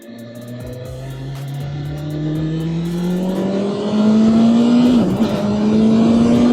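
A brand new BMW S1000RR motorcycle engine revs up steadily with a rising, loud, close whine, briefly dipping around the limiter before climbing again.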